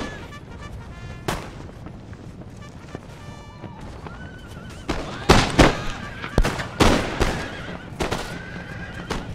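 Musket volleys in the video game Empire Total War, with horses neighing and hooves clopping early on, followed by a string of sharp, fairly close shots that ripple out in an uneven series over battlefield noise.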